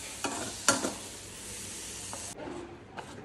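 Pan frying while making a first homemade pizza: a steady high sizzle with two sharp stirring scrapes early on, then the sizzle drops away to quieter clinks and a faint hiss.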